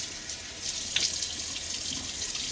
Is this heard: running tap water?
yes